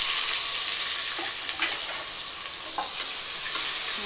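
Chopped onions sauté in a hot pan for prawn biryani, giving a steady, close sizzle with a few scraping stirs throughout and no voices.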